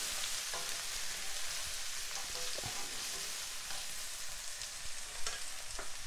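Jamaican brown stew fish (parrot fish) frying in a pan, a continuous hiss and crackle of hot oil with a few sharper pops and the odd stir, close up and with no talking.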